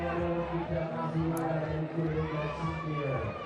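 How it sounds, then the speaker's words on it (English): A crowd at a lead climbing semi-final in Chamonix murmurs and bubbles steadily in the background, a dense wash of indistinct voices with a commentator talking over it. "This crowd starting to bubble away in the background."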